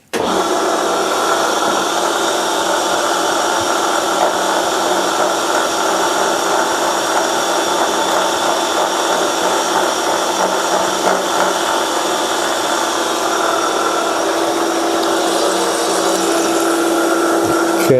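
A milling cutter takes a 1 mm deep cut on a steel vee block, a steady, loud, continuous machining whir and grind that holds without a break for the whole stretch, with no talking.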